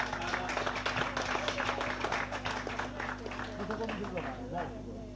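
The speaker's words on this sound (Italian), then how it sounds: "un applauso ancora" Audience applause at an Italian award ceremony for the Edward Lear prize in Montebello Jonico: steady, dense clapping from a crowd throughout, with a steady hum and some voices underneath.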